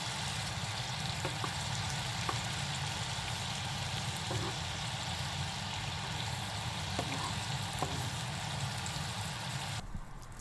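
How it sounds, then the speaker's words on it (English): Tofu steaks simmer in sauce in a pan, a steady, fairly quiet sizzle and bubbling hiss running the whole time with a few soft pops, alone with no voices. "Once the tofu has a nice color, add the sauce and cook until the tofu is well coated and the sauce has thickened slightly."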